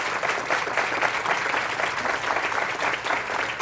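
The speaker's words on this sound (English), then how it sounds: "Let's give her a round of applause" An audience at a talk on early brain development applauds after a conversation with Dr. Judith Palfrey, a dense, steady wash of many hands clapping at moderate level for several seconds with no voices over it.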